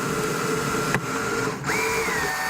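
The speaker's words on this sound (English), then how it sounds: "All right, let's drill into this cooler." A power drill bores into a plastic cooler being built into a PC case, a loud steady whine that briefly dips near the one-second mark, cuts out, then resumes at a higher pitch.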